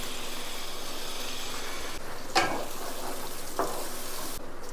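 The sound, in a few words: fried ground paste added to sautéed tomatoes in pan, sizzling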